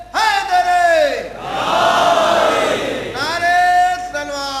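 At a Chehlum majlis commemorating the martyrs of Karbala, a large crowd loudly chants religious slogans in unison, two bursts of collective shouting separated by a swell of roaring voices, close and forceful.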